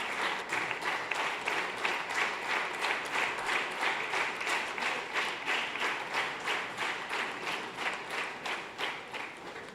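A large audience claps warmly to welcome a guest on stage at a Hindi gospel film release event, with dense, sustained applause lasting the whole stretch and a faint voice underneath.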